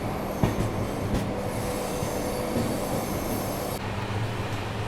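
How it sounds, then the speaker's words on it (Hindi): Shatabdi Express Vistadome train rolling along the Rangiya–Guwahati line after a reversal, with a steady loud rumble of wheels on rail, occasional squeals and clicks over about five seconds, no talk. "और रिवर्सल के बाद अब अपनी ट्रेन बढ़ रही है रंगिया गुवाहाटी वाली लाइन पर।"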